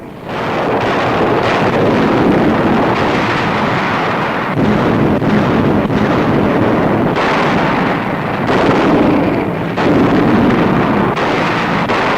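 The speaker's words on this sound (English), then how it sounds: "Some bearing artillery and rocket guns already opening fire." Artillery and rocket guns firing from landing barges during the 1944 D-Day invasion, a loud, continuous roar of blasts and rumbling booms with wind-like rushing noise, in archive footage.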